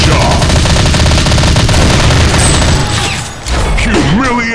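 Sniper rifle fire in the shooting game Blazing Sniper, with dense, loud gunfire and mechanical clatter that drops briefly near the end and then resumes.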